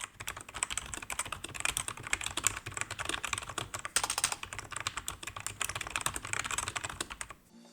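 Rapid, steady typing on a membrane keyboard, close up and fairly loud, with dense overlapping keystrokes running for several seconds before stopping abruptly; no voices.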